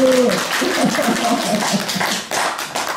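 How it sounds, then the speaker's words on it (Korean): A Buddhist temple congregation at a regular Dharma service claps together, a moderate, sustained round of hands mixed with laughter and voices. "박수!"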